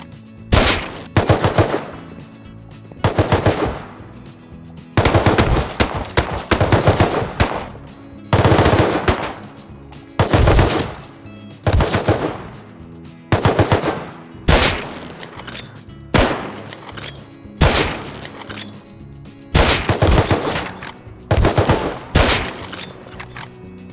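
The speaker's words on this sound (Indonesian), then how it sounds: "Aku serang mereka dari kejauhan karena aku pakai sniper." Sniper rifle fire aimed at NPCs in the survival game Rust, with loud, sharp shots repeating roughly every two seconds throughout, each followed by a short ringing tail, and no talk.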